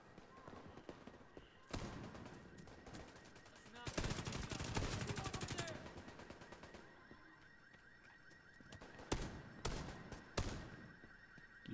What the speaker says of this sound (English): Your shotgun is stupidly loud.